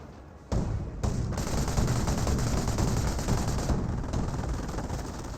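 Gunfire in a Company of Heroes battle: a dense, continuous roar of rapid machine-gun and rifle fire, loud and sustained with no pauses, starting after a brief quieter opening.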